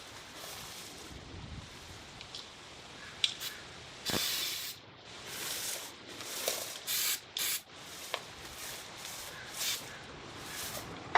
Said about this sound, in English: I blew off the hinges and cleaned them again with wax and grease remover